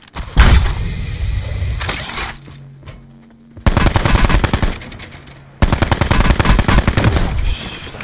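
Automatic gunfire in Call of Duty Black Ops 4 Blackout, several loud, dense bursts of rapid shots separated by a short quieter gap, with no talk.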